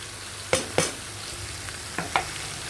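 Ivy gourd (kundri) fries in a pan without water while a spatula stirs it, giving a soft continuous sizzle with four crisp knocks and scrapes of the utensil against the pan.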